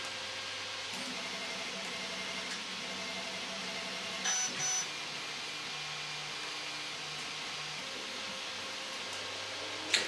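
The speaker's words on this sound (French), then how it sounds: "le fait d'entendre le bip, ça nous avertit, ah là, vite, il faut aller à l'imprimante changer le filament" A 3D printer gives a brief electronic beep warning to change its PLA filament, a short pair of tones rising out of a constant fan-like whir that runs the whole time, with no voices.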